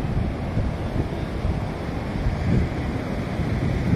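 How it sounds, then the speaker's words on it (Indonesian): Big ocean waves surge and crash at Shek O beach in Hong Kong, a continuous loud roar of surf mixed with wind buffeting the microphone, swelling slightly midway, with no talking. "ombaknya besar."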